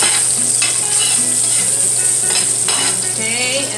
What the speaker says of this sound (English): It sizzles.